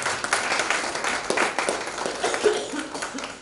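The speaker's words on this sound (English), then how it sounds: "Another round of applause for her." Audience applause after a scholarly talk, a broad wash of clapping with a few light laughs, moderately loud and steady for a few seconds.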